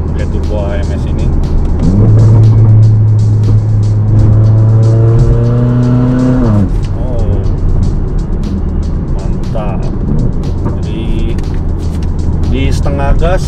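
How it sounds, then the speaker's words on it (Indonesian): Mercedes GLA45 AMG with turbocharged engine at half throttle, revving and pulling hard through the gears with a rising engine note, loud and close inside the car while a person talks over it. "Jadi turbonya langsung udah nyentak ya, menjelang RPM 4000 pakai turbo AMS ini."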